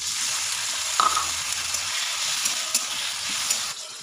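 Chopped tomatoes frying with spices in a pan for a vegetarian potato and tomato curry, giving a steady close hiss and sizzle with a brief stirring scrape near the start and no voices.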